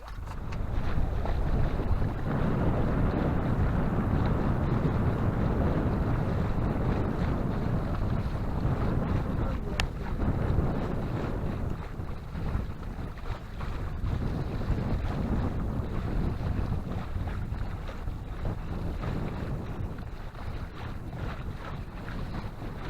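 Steady wind buffets the microphone aboard a sailboat on a river passing Svanesund toward a ferry crossing, with a constant low roar and faint water wash beneath it, continuous and close throughout.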